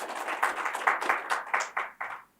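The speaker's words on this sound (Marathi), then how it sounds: "मला वाटतं त्यांच्यासाठी आपण एकदा जोरदार टाळ्या वाजवूया." Audience applause at a municipal councillors' conference in Sindhudurg: a steady patter of many hands clapping with loud, uneven surges, fading quickly at the end.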